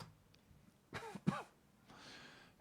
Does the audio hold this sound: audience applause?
no